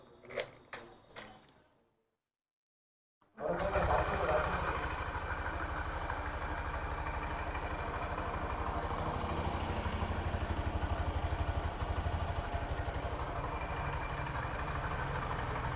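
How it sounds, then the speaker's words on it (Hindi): Honda Shine 125 motorcycle engine idling after a short mechanical start sequence, its exhaust giving a steady, close, even putter that runs unbroken for about twelve seconds with no talk. "अब आपको इसका जो है एग्जॉस्ट साउंड वो सुना देते हैं कैसा होने वाला है।"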